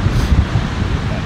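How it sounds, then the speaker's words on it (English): Strong wind gusting across an open golf course at Tenterfield Golf Club, a loud low roar buffeting the microphone in short rumbling bursts. "But that wind is strong. Well, that's a strong breeze."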